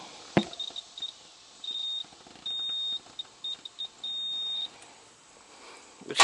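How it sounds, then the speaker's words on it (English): A multimeter in continuity mode beeps while testing a dead-shorted AC compressor to ground: a series of sharp, steady high-pitched tones, some brief chirps and others held for about half a second, in a quiet setting with faint handling noises. "And I'll do my continuity since it is a dead short."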